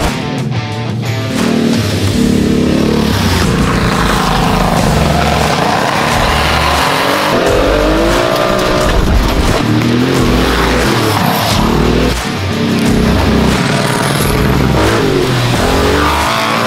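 Porsche 959 Paris Dakar rally car lapping on snow, its engine revving and pulling hard through changing gears, loud and close throughout, with no talk.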